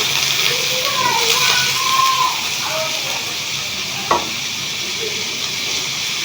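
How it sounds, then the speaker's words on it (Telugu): Chopped bottle gourd fries in a pan with a constant loud hiss and sizzle. A voice talks over it and a single utensil tap comes near the end. "సోరకాయ వేసుకొని వేయించుకుందాము"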